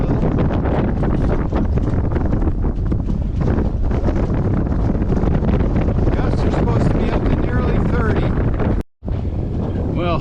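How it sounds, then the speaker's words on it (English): Strong, gusty wind buffets the microphone aboard a sailboat in the Great Harbor of Mount Desert Island, Maine, on a blustery day. It is a loud, continuous rushing roar with a brief dropout near the end. "right at the end of that last little segment, the wind really picked up and accelerated us"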